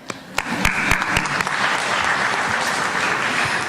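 Conference keynote audience applauding, a dense sustained wash of many hands clapping with a few sharper claps standing out near the start, steady and fairly loud throughout.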